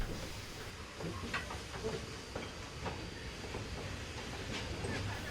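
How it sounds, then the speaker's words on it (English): Western Maryland train riding out of Cumberland, heard from on board as a steady rolling rumble with scattered clicks and rail clatter, moderately quiet and without voices. "We rejoin the train at Cumberland Station and ride it out of town."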